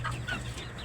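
Farm chickens clucking briefly in a quick, soft burst, close by over low background hum.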